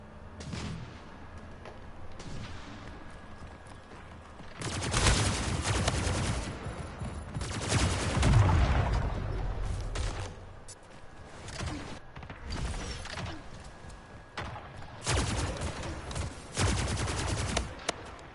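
Rapid bursts of plasma gun fire in the sci-fi shooter Splitgate, clustered volleys of sharp shots with gaps between them, loud and close over a steady game background.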